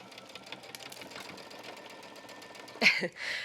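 A sewing machine back stitches through denim while a shirt dress is made from two denim shirts: a steady close mechanical whir of needle strokes, ending in a louder, sharper burst as the stitching reverses near the end.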